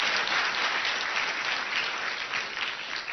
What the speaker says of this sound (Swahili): Tafadhali tupige makofi ya SG.